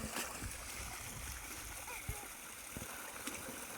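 Someone bathing in a muddy irrigation channel on a farm, with irregular close splashes and sloshing water throughout.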